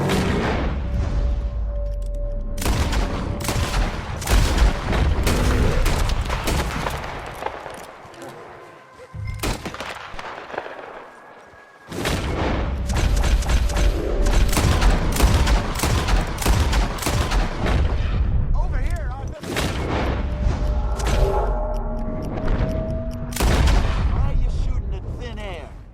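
Gunfire rings out during a hunt in Red Dead Redemption 2, with repeated loud shots and booming bursts in rapid clusters. A short lull breaks the firing before it resumes, and voices shout over it.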